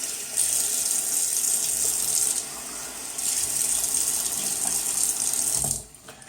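Water runs from a tap into a sink as a face is wetted before shaving, a steady close hiss that dips briefly midway, resumes, then cuts off near the end.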